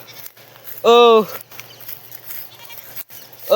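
A goat bleating once, loud and close in a hilly outdoor setting, a short wavering cry set against quiet background noise, followed by a brief voice at the end.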